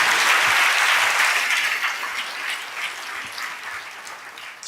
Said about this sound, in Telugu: అర్థమైతే కొట్టు చప్పట్లు